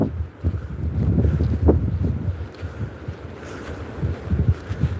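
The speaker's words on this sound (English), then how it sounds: "I didn't think the wind would be as much as what it is." Strong wind on the beach at Withernsea buffets the microphone in continuous loud rumbling gusts, roaring close and low with no break, and nobody speaking.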